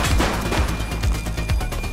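A suspect's gunshots in the police video game The Precinct, a quick dense string of loud shots close by.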